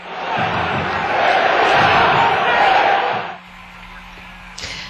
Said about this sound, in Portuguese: Mas não foi o suficiente para evitar a vaia da torcida